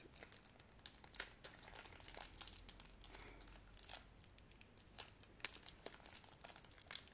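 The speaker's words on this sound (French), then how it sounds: "Je pense que je vais devoir couper dans le sachet zip." Quiet crinkling and rustling of a plastic zip bag being cut open, with scattered snips and small crunches, close up and faint, without talking.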